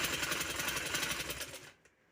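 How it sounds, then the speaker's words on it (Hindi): A sewing machine stitching trouser fabric runs in a fast, steady mechanical chatter close by, then stops abruptly near the end. "ये इस तरह इसके अंदर सिलाई लगा देंगे"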